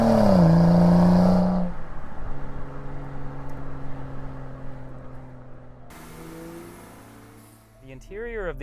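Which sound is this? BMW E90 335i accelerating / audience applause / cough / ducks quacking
BMW E90 335i accelerating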